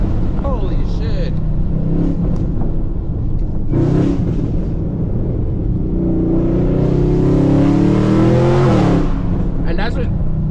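An 800hp Chevrolet Camaro ZL1 drifting, its engine droning and revving loudly throughout as the pitch climbs and falls, with someone talking over it.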